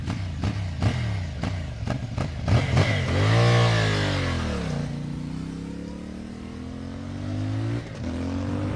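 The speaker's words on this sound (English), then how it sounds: "This exhaust is loud enough to be omnipresent, yet quiet enough to be inoffensive." CFMoto Ibex parallel-twin adventure motorcycle exhaust, close and loud: a few sharp throttle blips followed by a revving rise and fall, then a steady droning run as the engine settles.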